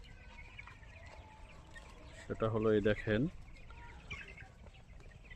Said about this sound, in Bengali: মুরগিরা কিভাবে খাদ্য খায়, কোত্থেকে খায়।